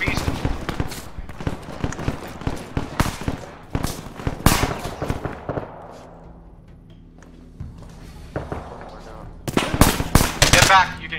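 A heavy shooter unleashes rapid automatic gunfire in the video game Jagged Alliance. Loud, dense bursts cut out for a few seconds of quieter lull before the firing picks back up, with voices talking underneath.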